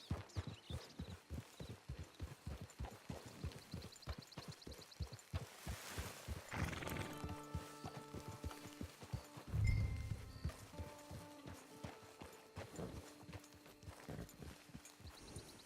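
Horse hooves clip-clop at a steady walking rhythm in Red Dead Redemption 2, close and even, with a brief swell of game sound midway and a few tonal effects layered over the hoofbeats.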